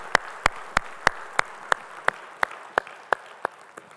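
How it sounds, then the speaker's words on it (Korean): Roughly a dozen sharp, evenly spaced claps ring out in a church during a Sunday service, a slow and steady unison clapping in praise, loud and near with a slight room echo. "우리 찬양을 받으실 주님께 영광의 박수 올리겠습니다."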